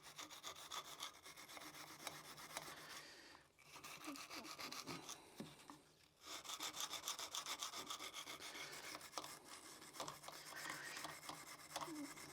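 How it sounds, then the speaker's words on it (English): Small wire brush scrubbing a rusty motorcycle wheel, a steady close raspy scraping in rapid back-and-forth strokes, briefly pausing twice before resuming. "Try a small wire brush."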